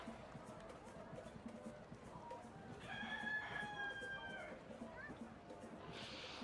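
A voice mimics a rooster crowing, a single faint drawn-out cock-a-doodle-doo rising and falling in the middle, heard within a tabletop fantasy role-playing game session with quiet room noise and murmuring around it.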